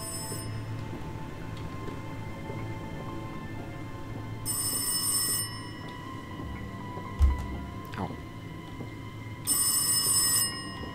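Telephone ringing in the horror video game Rise of Insanity, two bright bursts of ringing about five seconds apart over a quiet, humming room ambience, with a soft thud between them.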